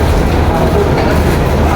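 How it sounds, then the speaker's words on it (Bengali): Train slowly pulling out of Kamalapur railway station, a loud, dense, low rumble that fills the short moment, with a crowd and voices mixed into the noise. "আপনারা দেখতে পাচ্ছেন ট্রেন আস্তে আস্তে চলে যাচ্ছে।"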